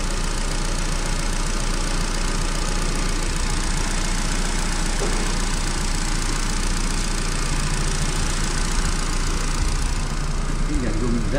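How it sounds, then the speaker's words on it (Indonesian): A Nissan car engine runs loudly and steadily close by, a dense continuous mechanical drone with a ticking, valve-like clatter and no clear rise in pitch. "ciri khasnya Nissan tuh kayak bunyi klep kalau digas berasa"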